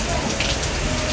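Steady rain falls by the Marikina River, a dense close hiss of drops hitting surfaces, constant and loud across the short moment.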